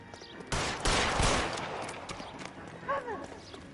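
Gunfire from L.A. Noire crackles in a quick burst of several shots mid-scene, fairly loud against a quieter background, followed by fainter sounds afterward; a voice speaks briefly near the end.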